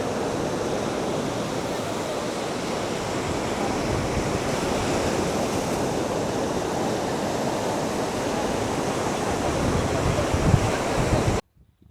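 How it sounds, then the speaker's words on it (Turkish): Ocean waves break continuously along a Cyprus shoreline beside a hotel walkway, a dense steady roar of surf mixed with wind buffeting the microphone, loud and unbroken until an abrupt cut at the end. "ilk defa böyle bu kadar çok dalganın olduğunu görüyorum Kıbrıs'ta"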